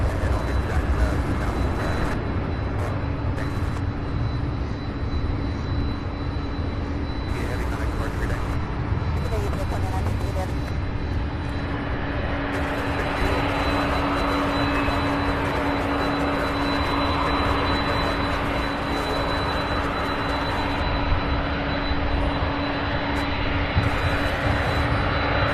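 A Boeing 767 jet airplane near SDF airport in Louisville, Kentucky, gives a steady, loud engine roar with a sustained whine throughout, mixed with strong wind noise.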